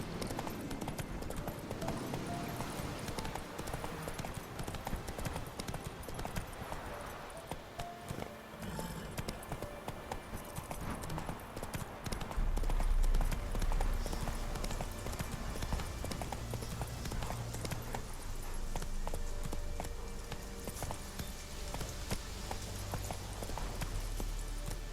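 Hooves of a horse galloping in the video game Witcher 3, a fast continuous clip-clop over game ambience and music, steady and moderately loud, with brief shifts in intensity.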